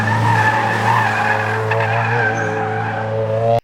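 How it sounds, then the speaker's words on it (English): Tires on a Subaru WRX squeal and skid during an autocross run, a loud, sustained close howl over the steady engine drone that cuts off abruptly at the end. "I'll insert a clip of me doing an autocross right here."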